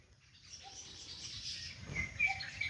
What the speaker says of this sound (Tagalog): Tahimik na naririnig ko lang yung mga ibon, no?